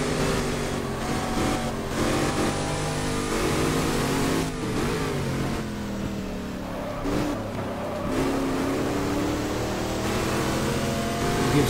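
A Ford GT40 race car engine in GT Legends revs and accelerates at mid pitch, with rising and falling harmonics as it pulls past another car on track, loud and continuous throughout.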